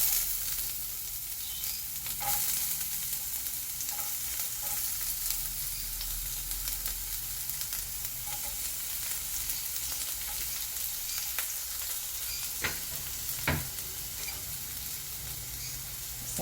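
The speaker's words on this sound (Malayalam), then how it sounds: "പാൻ അടുപ്പത്ത് വെച്ച് കുറച്ച് ഓയിൽ ഒഴിച്ച് കൊടുത്തിട്ടുണ്ട്. അല്ലെങ്കിൽ നമുക്ക് ഈ സവാള ആദ്യം ഇട്ട് കൊടുക്കാം." Onion sizzles and fries in hot oil in a pan on the stove, a steady close crackle with occasional sharper pops and scrapes of stirring, no voices.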